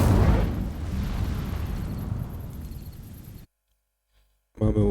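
An Incendio fire spell in Hogwarts Legacy catches dry vines with a loud burst, and a roaring, crackling burn follows for a few seconds before cutting to silence. A voice then speaks briefly.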